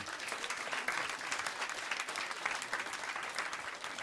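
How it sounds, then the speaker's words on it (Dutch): Applause for a group of girls at a Dutch village event, continuous crowd clapping heard from some distance, fairly quiet but steady throughout. "nogmaals applaus voor deze meisken"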